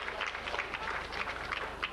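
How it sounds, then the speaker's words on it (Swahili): Audience applause at a trade fair award ceremony as the winner, Multi-Cable Limited, is called up, steady dense clapping from a crowd filling the moment, moderately loud and continuous. "Naomba tumpigie makofi aje achukue tuzo yake."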